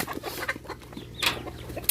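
Several chickens cluck in short, scattered bursts close by, with a sharper squawk partway through and soft background noise.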